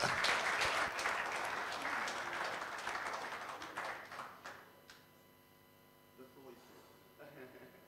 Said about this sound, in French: qu'on applaudit très très fort